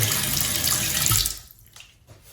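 Water runs loudly into a bathroom sink with an umbrella drain stopper, then cuts off abruptly, leaving faint trickling and gurgling as the slow drain barely moves.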